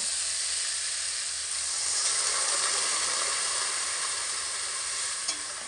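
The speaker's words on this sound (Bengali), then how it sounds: "এবার আমি এর মধ্যে পরিমাণ মতো জল দেব।" Water is poured into a hot pan of spiced long beans and potatoes cooking over medium heat, giving a steady, loud sizzling hiss that swells slightly midway and holds throughout, with no voices.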